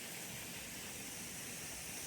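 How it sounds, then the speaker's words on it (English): A waterfall on a partly frozen river in a Nova Scotia winter forest gives a faint, steady broadband rush that stays even and continuous throughout. "The sound of the waterfall."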